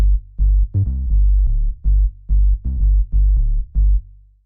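Deep minimal house bass line sitting mostly on G: a run of short, round, booming low notes in a syncopated, repeating pattern with brief gaps between them, loud and dry, with no other instruments or voices.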